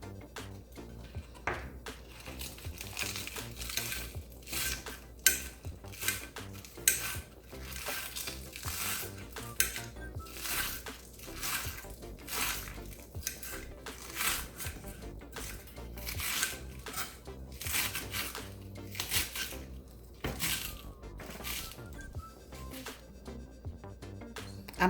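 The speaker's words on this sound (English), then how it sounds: "Next, we're going to slice some green onions." Green onions being sliced with a knife on a cutting board in a home kitchen, giving a long run of quick, close, crisp chopping taps in uneven bursts with occasional clatter of utensils.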